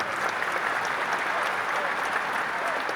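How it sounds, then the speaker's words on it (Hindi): Sustained audience applause fills a mushaira hall at Jashn-e-Rekhta, a dense, steady wash of many hands clapping at even loudness throughout, with no voices rising above it. "एक बार मेरे कहने से उनके लिए तालियां बजाइए"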